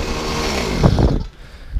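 A small two-stroke engine fitted with a modified petcock runs at high revs with a buzzing, chainsaw-like drone, then drops sharply to a lower idle partway through, running close and loud.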